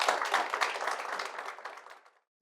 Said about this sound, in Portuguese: Vamos aplaudir o podcast de hoje aí?